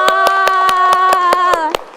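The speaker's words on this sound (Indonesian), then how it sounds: "Tepuk tangan buat Mongol." A studio talk-show audience claps in an even, quick rhythm, about nine crisp, loud claps over a sustained musical tone that fades near the end.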